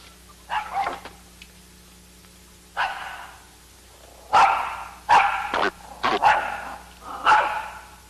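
A dog barks in several separate bursts, a couple of early yips and then a cluster of sharper barks, fairly close and clear over a low steady hum.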